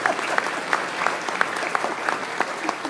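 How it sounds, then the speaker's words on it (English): An audience at a Roswell city council meeting claps in a steady, moderately close round of applause, with sharper individual claps standing out every so often. "That initial clap was for the cat, Kevin."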